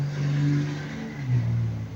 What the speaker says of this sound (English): sorry about the traffic outside